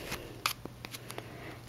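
Playing cards cut in a Sybil cut flourish make a few soft, brief snaps and riffles close by, quiet against a faint steady hum.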